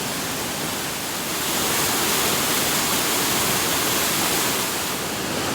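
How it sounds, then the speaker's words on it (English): Steady, dense roar of Commerce Creek Falls in the Grayson Highlands, continuous and loud throughout with no pauses or voices. "there is a waterfall"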